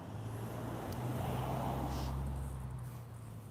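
A truck's engine idles as a steady low rumble, blended with continuous broadband road traffic noise that swells slightly and stays fairly quiet and constant throughout.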